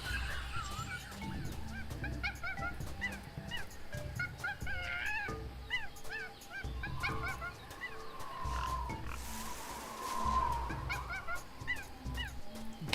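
Jungle ambience in the Tales of Monkey Island video game, with wild boar grunts and squeals among repeated chirping animal calls and rustling over a steady background bed, moderately quiet, no talk.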